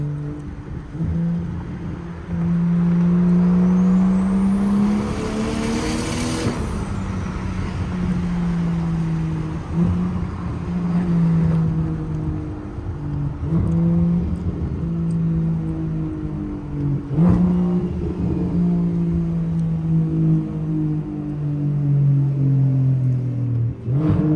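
A BMW 335i with a single turbo and straight pipes revs and pulls hard through several rising accelerations, the drone climbing in pitch and then dropping back between shifts, loud and close.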